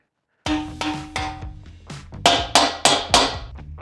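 A big, fat chisel is struck with a hammer to split a welded three-piece wheel apart; about nine sharp metallic blows, near and loud, spaced roughly a third of a second apart, with ringing decay and no voices.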